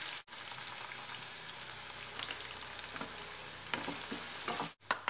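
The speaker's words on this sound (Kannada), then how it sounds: "ಇವಾಗ ಈರುಳ್ಳಿ ಹಾಕೊಳ್ಳೋಣ. ಈರುಳ್ಳಿನ ಸ್ವಲ್ಪ ಎಣ್ಣೆಲೆ ಫ್ರೈ ಮಾಡ್ಕೊಳ್ಳೋಣ." Onion frying in hot oil with cumin in a home kitchen, a steady bright sizzle with occasional stirring scrapes and a couple of brief gaps, close and alone.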